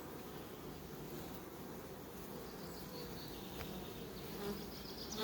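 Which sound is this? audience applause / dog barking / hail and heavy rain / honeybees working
honeybees working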